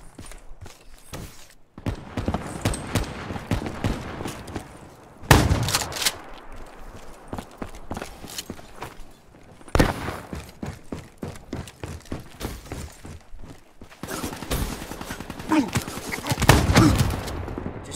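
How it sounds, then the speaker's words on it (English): Rapid bolt-action sniper rifle fire in Black Ops 3, a run of sharp shots with mechanical bolt clicks between them, bursts grouped at intervals across the clip, loud and close, with faint game sound and some voice underneath. "Rapid firing bolt action sniper rifles."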